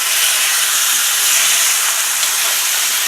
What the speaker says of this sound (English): in the frying pan, we're giving this chicken 8 minutes of searing